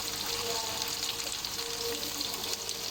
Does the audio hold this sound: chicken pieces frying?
yes